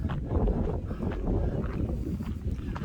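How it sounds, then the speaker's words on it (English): Wind buffets the microphone with a constant low rumble that swells and dips in gusts, outdoors in the Badlands, nothing else clearly audible. "might be kind of hard to hear. It's windy,"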